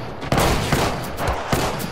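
Gunfire in the battle royale game Apex Legends: several sharp, loud shots in quick bursts, spaced out with distinct impacts over about two seconds.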